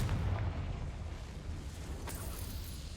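A Confringo fire spell goes off in the video game Hogwarts Legacy: a low, rumbling boom at the start fades into a soft roar, and a second faint burst follows later.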